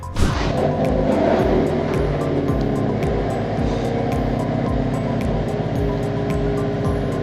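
A Hyundai Avante N sports car engine roars loudly and steadily from nearby, with a thick low rumble that holds without pause and has no speech over it.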